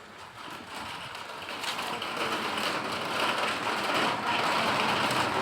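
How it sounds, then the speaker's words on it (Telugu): Rain begins falling under dark clouds, a soft, even hiss that grows gradually louder and denser over a few seconds, with no other sounds around it. "వర్షం సౌండ్ వినపడుతుందా?"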